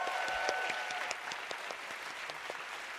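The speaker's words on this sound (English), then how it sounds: "I think we need another round of applause for all our nominees" An audience at an arts awards ceremony claps steadily, a moderate burst of applause that continues without pause and stays fairly even throughout.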